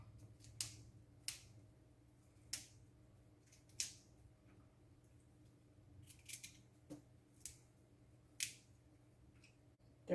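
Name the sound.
cutting thick broccoli stems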